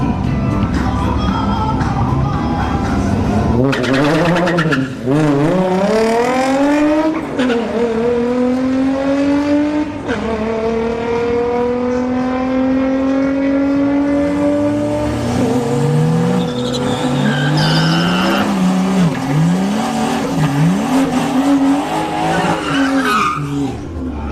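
A Nissan 350Z and a Pontiac GTO street car drag race at Bradenton Motorsports Park, engines revving loudly and climbing through repeated gear changes with tire chirps, sustained and close for the full run.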